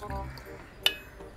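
Essence trickles quietly into a glass for falooda, a faint liquid pour with one sharp little clink partway through, close and soft with no voices.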